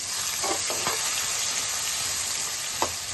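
Green chillies and chopped onions fry in a hot pan for egg biryani, giving a steady close sizzle throughout with a few brief stirring scrapes.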